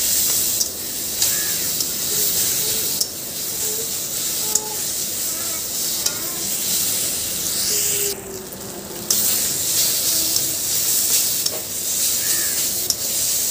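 Taro stalks fry in a pan, giving a continuous loud sizzle and hiss with occasional scraping stirs. A faint voice is heard now and then.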